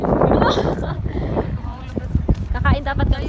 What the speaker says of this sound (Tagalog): Pasensya na guys kung mahangin.